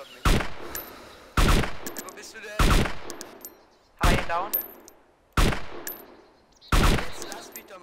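Six sharp gunshots from the game DayZ Standalone ring out one after another at roughly even intervals, each loud blast followed by a short fading tail, with no talking.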